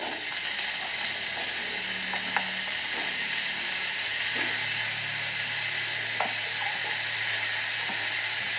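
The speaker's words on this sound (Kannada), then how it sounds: "ಚೆನ್ನಾಗಿ ಒಂದ್ಸಲ ಇದು ಎಣ್ಣೆಯಲ್ಲೇ ಫ್ರೈ ಆಗಲಿ." Banana stem fries in oil with onion, green chilli and tomato, giving a steady, soft sizzle. Occasional stirring clinks and scrapes come through over the frying.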